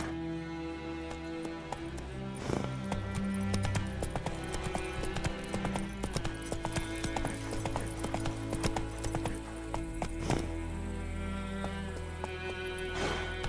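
Horse hooves clip-clopping in The Witcher 3 video game, a steady rhythmic beat of a ridden horse under in-game music, with a brief whinny-like accent.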